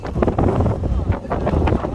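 Strong, dangerous wind gusting through Dera Ghazi Khan during a storm with light rain, roaring steadily into the microphone with loud buffeting, a voice talking faintly underneath.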